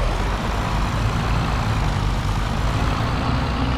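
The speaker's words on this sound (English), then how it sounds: "we'll just push the tractor past the damn limits" A tractor engine in Farming Simulator roars loudly and steadily at high revs, a dense, continuous rumble heard alone with no voices.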